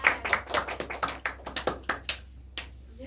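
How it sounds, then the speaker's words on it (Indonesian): A small classroom group claps for their classmates at the end of a lesson on probability, a few scattered hand claps that quickly thin out and stop. "Beri tepuk tangan untuk teman-teman kalian."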